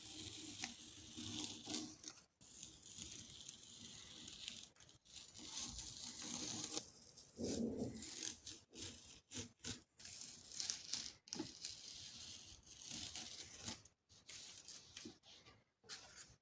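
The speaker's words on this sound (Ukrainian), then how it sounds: "Знімаємо будівельний скотч." Close, papery tearing and crinkling as construction tape is peeled off paper in a series of short pulls separated by brief pauses.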